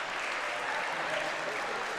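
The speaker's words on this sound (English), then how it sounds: "Get them a nice round of applause from the Spartan faithful." Home crowd in a high school girls basketball gym applauds as the Lady Spartans bring their starters off the floor, a steady, moderately distant wash of clapping through the whole stretch.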